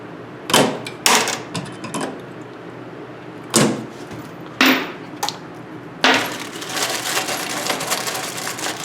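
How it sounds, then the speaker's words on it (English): Metal knockouts are popped and twisted out of an electrical box while a storage building is wired: several sharp, close metallic snaps and clinks arrive in separate bursts, followed by a longer rattling scrape. "Just pop them out, twist them a little bit, and they'll come right on out."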